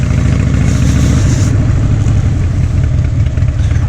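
Group of motorcycles riding through Hobart, a loud steady rumble of engines close by with a continuous low throb and no pauses.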